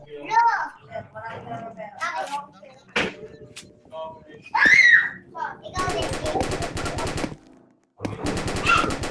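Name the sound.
sniper rifle gunfire in the Roblox video game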